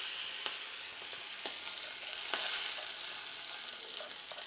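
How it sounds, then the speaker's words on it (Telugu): Green chillies and garlic sputter in hot oil for tempering, giving a continuous sizzle with frequent sharp crackles and pops spread irregularly across the clip. "సో చిట్పట్ అంటుంది కదా, చిట్పట్ అనేటప్పుడు మనం ఈ పచ్చిమిర్చి వేసేసుకుంటాము"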